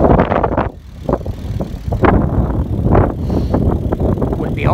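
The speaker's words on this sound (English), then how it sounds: "Headwind on the way home, that's alright." Gusty headwind buffets a microphone while cycling on the way home, giving loud, uneven rumbling bursts that rise and fall close to the mic.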